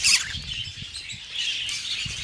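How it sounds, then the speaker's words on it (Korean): Parrots at a parrot farm give harsh squawks and chirps, a sharp call at the start followed by scattered bright calls over a busy background. "저 안에 앵무새도 많네"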